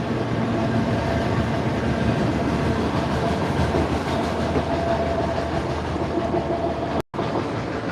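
Boxcars of a passing freight train rumble by nearby in a continuous loud roll with rhythmic clickety-clack from the wheels and a brief break near the end.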